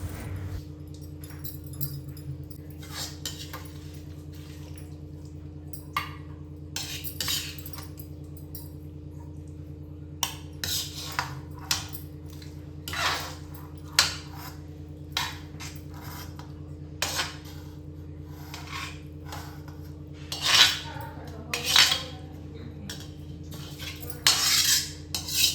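Cooked eggplant bharta vegetable with coriander is spooned from a pan into another bowl: metal utensils clink and scrape in irregular, sharp taps over a constant low hum, with no talking.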